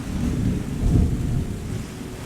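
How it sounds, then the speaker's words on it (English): A thunderstorm in the video game Terra Nil rumbles low with steady rain hiss, a deeper swell of thunder rising midway and fading, with no voices. "The thunderstorm"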